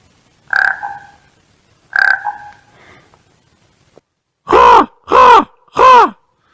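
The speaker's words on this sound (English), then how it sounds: "My raven friend just flew by again. I gave him a croak and he looked at me, but just kept on going." A raven croaks outdoors, first as two hoarse, moderately loud calls, then three much louder, deep croaks in quick succession as it passes close by.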